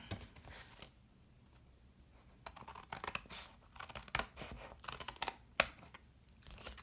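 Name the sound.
scissors cutting out a paper square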